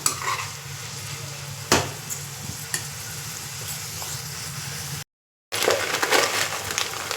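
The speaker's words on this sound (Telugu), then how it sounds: "కొద్దిగా ఉప్పు వేసుకుంటే ఉల్లిపాయలు తొందరగా వేగిపోతాయి." Onions fry in a pan for a village-style country chicken curry with a steady, close sizzle. Spatula scrapes and stirs sound now and then, and there is a brief dropout near the end.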